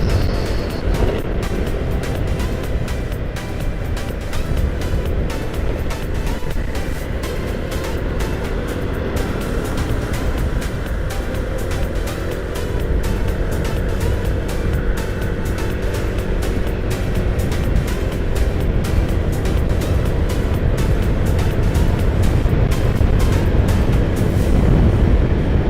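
A vehicle engine pulling steadily on a mountain road trip from Bekasi up to Puncak, a loud continuous drone with wind and road noise, holding strong throughout.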